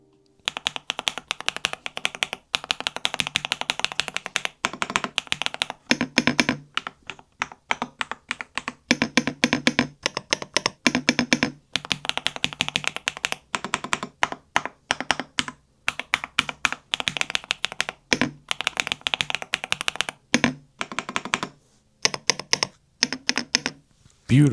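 Rapid, continuous keystrokes on the second UNIQMAG mechanical keyboard, a close, crisp clatter with brief pauses between bursts over about 25 seconds, no talking.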